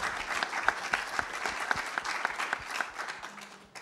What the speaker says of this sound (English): I think we should give a hand of applause